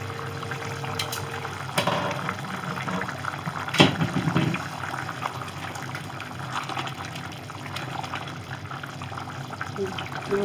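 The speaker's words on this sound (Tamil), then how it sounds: "சிக்கன் கொதிச்சிட்ருக்கு" Spicy chicken gravy bubbles steadily in a pot on a home stove, a soft, continuous simmering hiss with a few louder pops. A voice talks quietly over it.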